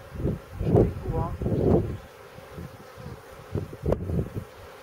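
Honey bees buzzing at an open beehive during a spring hive inspection, a continuous low hum close by, with people talking over it.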